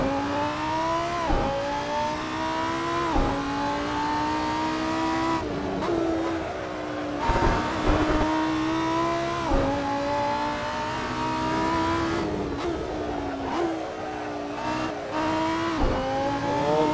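A Lamborghini Huracan Super Trofeo race car roars around Estoril in the Assetto Corsa racing game, its loud engine revving hard through repeated upshifts and downshifts with brief lifts, continuous and close.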